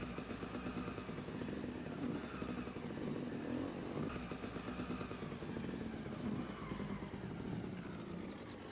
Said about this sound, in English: This is our first vehicle, the dirt bike.